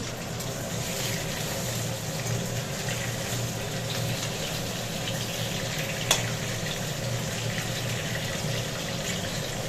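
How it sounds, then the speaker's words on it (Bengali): Potatoes fry in a pan in a home kitchen, a steady soft sizzle running evenly throughout with a kitchen chimney fan humming, one brief clink near the end and no talking. "আলুটা ভাজা হোক"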